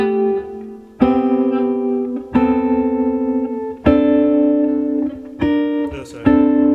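Guitar chords with smooth voice leading, each played together as a full chord, struck five times in slow succession and left to ring clearly between strikes.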